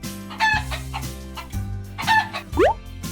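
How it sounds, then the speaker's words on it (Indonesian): Chicken clucks in short bursts, then a rooster crows with a rising call near the end, close and fairly clear with no talking. "Ini ayam."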